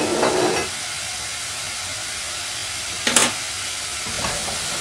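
Spam and carrots frying in a pan for fried rice give off a steady, moderate sizzle and hiss throughout, with a brief louder burst of steam near the end.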